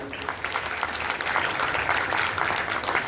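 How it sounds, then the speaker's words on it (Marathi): An audience at an anniversary celebration claps loudly and continuously, a dense, even wash of applause lasting the whole moment. "यांच्यासाठी एकदा आपण जोरदार टाळ्या वाजवूया"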